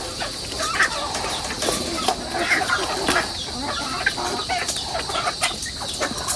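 A flock of chickens clucks and squawks in a busy chorus at feeding time, with occasional wing flaps and scratching. The calls come from several birds at once, near and far.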